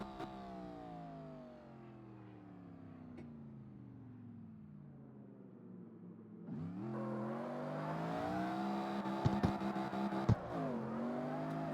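A Corvette C7 engine in the street-racing game CarX Street idles and drones steadily, then revs up sharply and holds a louder, rising whine with a few clicks near the end.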